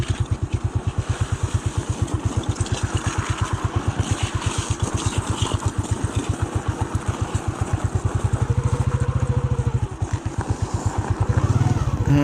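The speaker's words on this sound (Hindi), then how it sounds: "अब मैं इसको पाँव से रोक के स्पीड कम कर रहा हूँ अपनी, पाँव लगा के, दाएं और बाएं पाँव लगा के।" A motorcycle engine thuds in a fast, even pulse while the bike slows on a snowy road in Iran and the rider drags both feet to brake, steady and close, with the rhythm shifting near the end.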